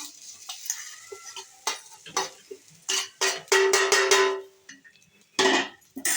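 Grated coconut stirred and roasted in a kadai, with repeated scraping strokes of a spatula against the metal pan and light sizzling, close and fairly loud in uneven bursts.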